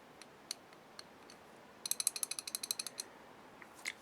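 Rapid, fine metallic clicking and rattling of a loose nut on the worn lead screw of an MN-80 lathe, starting with scattered ticks and building to a quick run of clicks, close and faint.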